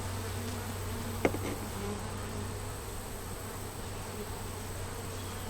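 Steady buzzing of many honeybees at a hive, a dense continuous drone with one brief sharp click near the start, no voices.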